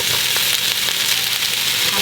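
Vegetables sizzle and fry steadily in a wide wok as zucchini joins onion and potato for an okra and tomato stew, a continuous loud crackling hiss with a few soft stirring knocks.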